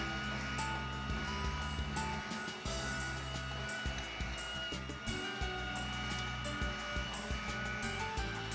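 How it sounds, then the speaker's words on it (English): A vacuum cleaner runs on carpets and rugs during house cleaning, a steady loud drone with rhythmic fluctuations as it moves back and forth, continuing throughout without talk. "Kyrie loves to vacuum the carpets and rugs."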